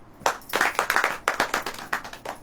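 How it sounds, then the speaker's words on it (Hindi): Audience clapping during a Hindi church sermon, a run of irregular bursts of hand claps rising and falling in waves, fairly close and loud, with no speech over it. "ताली बजाएं।"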